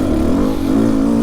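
An enduro motorcycle engine holds a steady, loud drone in second gear on a trail, its pitch rising and dipping slightly with the throttle.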